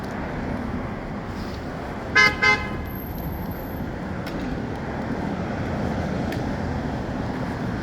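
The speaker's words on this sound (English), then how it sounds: "They start using their horn, the car horn." Car horn giving two short toots in quick succession over steady low traffic rumble, moderately close.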